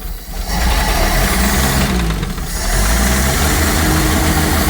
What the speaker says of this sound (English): Listen to it idle.